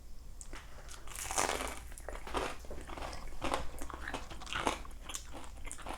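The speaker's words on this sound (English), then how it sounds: "let's try a shrimp and see how it tastes with the sauce." Someone bites into and chews a shrimp dipped in spicy sauce, close to the mouth, with repeated soft crunches and wet chewing sounds coming in irregular bursts at a fairly quiet level.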